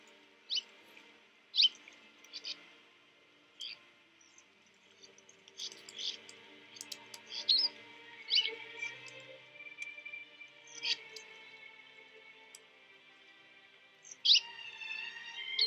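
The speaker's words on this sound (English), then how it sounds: "More and more migrants join in. Wagtails." Migrating wagtails give repeated sharp chirps and calls against a quiet background at their only stopover before crossing the Sahara, with a few louder notes standing out, one near the end.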